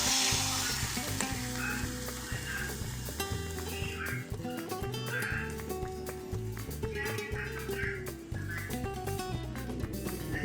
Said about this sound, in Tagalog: Lulutuin na po natin yung omelette